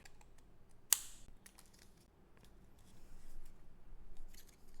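Scissors cutting paper to trim a junk journal cover, with a sharp snip near the start followed by soft, quiet crisp snips and rustles in a hushed room.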